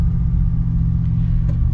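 A Jeep Gladiator 392 V8 with a 5:10 axle ratio and 40-inch tires idles while rolling, giving a steady, loud low rumble that holds evenly throughout with no revving and no talking.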